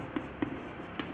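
A maths problem is written out by hand, with three soft scratchy strokes and taps heard close over a steady background hiss.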